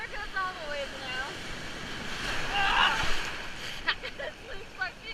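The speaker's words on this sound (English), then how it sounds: "Oh, I was not ready for that extent of a wave." Ocean surf surges and rushes past close by in steady, rising wash, with voices talking and calling over the water.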